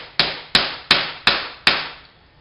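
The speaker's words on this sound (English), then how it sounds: "you're going to want to pound it in." Five sharp, evenly spaced blows as a connector is pounded into plastic hoop tubing for a collapsible hoop, each strike loud and close with a short ringing decay.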